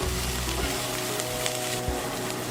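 Capsicum and bell peppers go into a hot pan with boiled vegetables, bringing a continuous close sizzle with faint scraping and light knocks as they settle into the oil.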